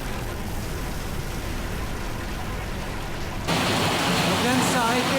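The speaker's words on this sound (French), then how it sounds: "là il pleut trop pour continuer en moto" Heavy tropical rain pours down during a motorcycle ride in Thailand, a steady dense hiss that grows noticeably louder and fuller partway through as the downpour intensifies.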